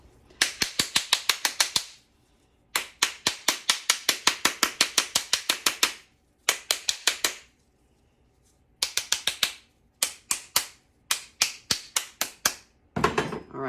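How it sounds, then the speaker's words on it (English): Sharp knocks on the outside of a bath bomb mold, struck to loosen the grit, come in rapid clusters of a dozen or so hits separated by short silent pauses, close and crisp. "that's why we bang on the outside to try to loosen up the grit"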